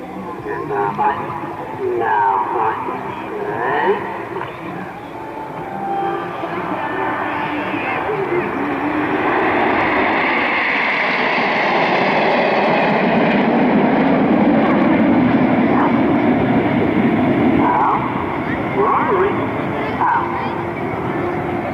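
Nine display team jet aircraft fly overhead in close formation aerobatics at the Sanicole Airshow 2015 evening show, a loud rising roar that swells and sustains, with crowd chatter and announcer talk underneath.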